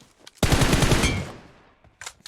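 A loud burst of automatic gunfire in a battle royale shooter on the Erangel map, a rapid rattling volley that decays over about a second, followed by a few fainter shots.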